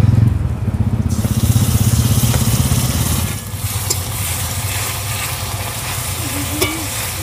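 Spices frying and sizzling hard in a pan with onion and tomato for a fish-head muri ghonto, loud and steady, dropping slightly after a few seconds into a softer continuous sizzle.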